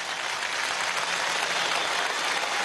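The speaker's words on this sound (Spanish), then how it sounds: "para quien también pido un gran aplauso" Loud, dense crowd applause for Hugo Chávez at a youth and social movements congress in a large arena, a continuous wash of clapping with no break.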